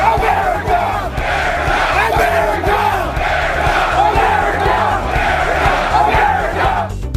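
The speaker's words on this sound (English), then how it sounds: "Yeah, boisterous crowd." A boisterous crowd at the Ryder Cup golf tournament roars and chants loudly in the grandstand, rhythmic cheering with whoops and shouts filling the whole stretch.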